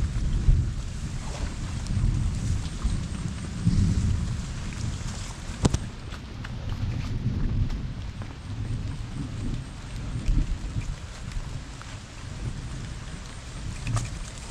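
Rain falls steadily by a river during a fishing trip, a continuous hiss with low rumbling thunder and a few sharp cracks, heard alone without talk.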